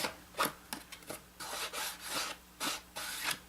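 Brown colour being rubbed onto paper for an envelope photo album, heard as close, soft scratchy strokes in uneven bursts with short pauses between them.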